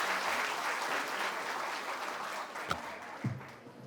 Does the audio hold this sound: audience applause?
yes